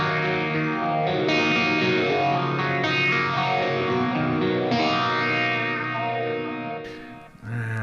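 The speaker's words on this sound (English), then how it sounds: "PHASER in the FX loop." Electric guitar played through a phaser placed in the amplifier's effects loop, giving a loud, continuous sweeping, swirling tone over sustained chords that fades near the end.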